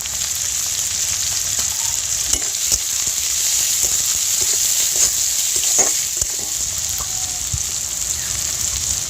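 Chopped medium-sized tomato frying in a pan of hot oil, a steady close crackling sizzle dotted with sharp pops and occasional spatula clicks, no voices.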